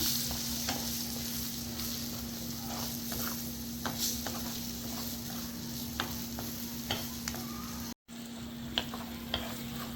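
Goat spleen and onions fry with chili powder while being stirred in a pan: a continuous close sizzle broken by repeated scraping stir strokes, with a brief cut in the sound near the end and no voices.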